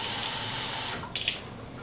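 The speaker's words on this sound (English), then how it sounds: "I'm just going to add some water" Tap water runs into a soup pot as split pea soup is made, a loud steady rush of water that cuts off midway, followed by a few splashes and drips.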